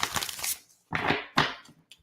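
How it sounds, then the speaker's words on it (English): Tarot cards being shuffled by hand in three quick riffling bursts separated by short pauses, close and fairly quiet, with a faint tap at the end. "I got to shuffle again."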